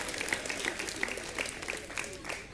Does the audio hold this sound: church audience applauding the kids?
yes